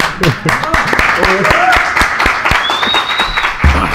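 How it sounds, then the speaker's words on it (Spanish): Applause for the winner of a Big Mac burger speed-eating contest, a few loud close claps and cheers mixed with excited talking and laughter, with voices prominent over the clapping throughout. "Un aplauso para este hombre"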